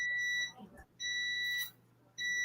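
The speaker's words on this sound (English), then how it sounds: "that's our microwave going off" A microwave oven's alarm sounds in the background as two long, shrill electronic beeps, each lasting about half a second to a second with a pause between, and the start of a third at the end.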